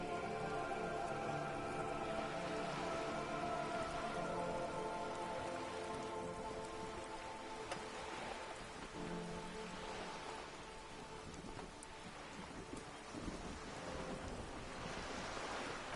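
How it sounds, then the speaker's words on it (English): Rain in Disco Elysium pours steadily onto wooden boards and the surrounding water, a dense, even patter with soft surf-like washes underneath, continuous and moderately quiet, with no voices. "All around you, rain keeps falling down. On the wooden boards she's standing on, and on the water around you."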